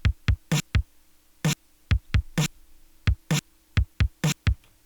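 Sparse, short electronic hits in a bouncy, irregular rhythm from a lo-fi album track, with sharp clicky transients and a faint steady hum underneath, fairly quiet and without voices; the 8-bit guitars and ride drums are not clearly distinguishable.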